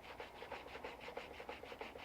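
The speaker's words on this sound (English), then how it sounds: "So I start off by sanding both plates." Brass plates are sanded before soldering, a quiet rhythmic rasping with even back-and-forth strokes about four per second, close and faint with no talk.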